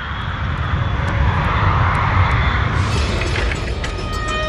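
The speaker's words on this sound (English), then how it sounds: "Avianca 52 takes off from Medellin with its maximum allowable fuel load." Avianca Colombian airliner taking off from Medellin with a full fuel load, its jet engines producing a loud, steady roar that builds and holds throughout, with a brighter whine rising near the end.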